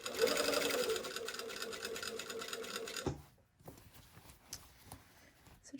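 A sewing machine stitching a continuous lap sleeve placket on a shirtdress runs steadily and loudly for about three seconds, then stops, leaving faint handling clicks and quiet rustling.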